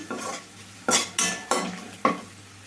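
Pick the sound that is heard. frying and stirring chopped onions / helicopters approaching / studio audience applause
frying and stirring chopped onions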